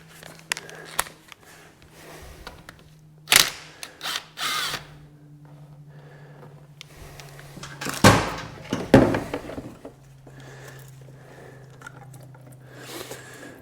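Short bursts from a pneumatic impact gun loosening a 5/16 coolant drain bolt on a 2009 Arctic Cat DVX 300 quad, a few separate rattling hits with pauses between, close and fairly loud over a low steady hum.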